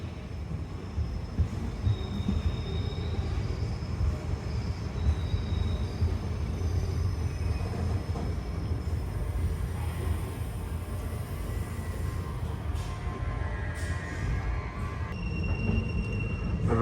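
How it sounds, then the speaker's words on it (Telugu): Train pulling away from platform 1 at Raichur Junction on a Kakinada to Mysore special, a steady low rumble of wheels and carriages with faint squeals and clanks, continuous and fairly close. "ప్లాట్ఫామ్ నెంబర్ 1 నుంచి బయలుదేరింది మన బండి."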